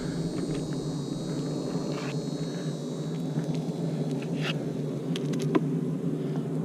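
Bees buzz continuously around a hive box, a dense steady drone with a few individual insects whizzing closer now and then.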